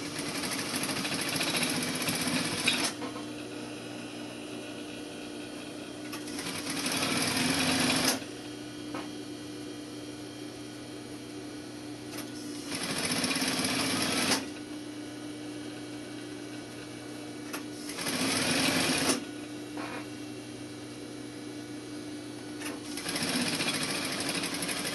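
Sewing machine stitching flat felled seams in bursts of several seconds each, with short quiet gaps between runs and a steady whirring hum throughout the stitching.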